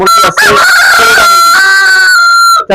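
A rooster on a farm of laying hens gives one long, loud, close crow lasting almost three seconds.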